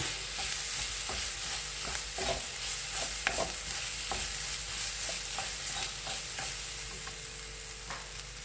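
Grated coconut sizzles and fries in ghee in a pan for a stuffed banana fry, with steady crackling and repeated scraping strokes of a spoon stirring throughout.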